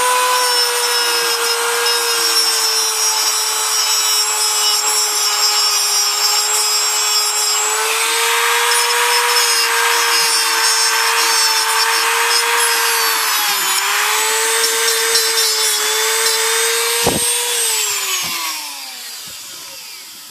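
Small rotary power tool cutting and shaping a broken plastic carriage release arm of a Smith Corona manual typewriter to a sharper tip, a loud, steady high whine that wavers in pitch as it bites the plastic, then winds down.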